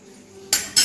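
A spoon clinks twice against a pot while adding ghee for coconut sweet rice, two short sharp metallic taps close by after a quiet start.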